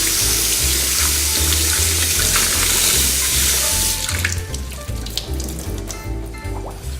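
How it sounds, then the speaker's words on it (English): Water gushes loudly from a sink tap as a paint sponge is rinsed out, a steady close rush with a rhythmic low pulsing that eases and turns splashier toward the end. "Make sure that your sponge gets washed out."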